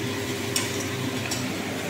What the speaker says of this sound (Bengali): শুধু টমেটো মশলা দিয়ে তা ভাজছো